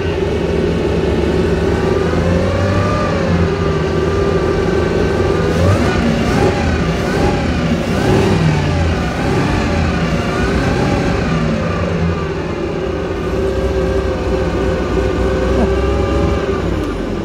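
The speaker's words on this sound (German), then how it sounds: "diese 8-Zylinder-Maschine mal am Sound zu hören" A 1935 Bugatti Type 46 S supercharged eight-cylinder engine runs steadily and loudly, with a few blips of revving midway and a constant deep mechanical drone throughout.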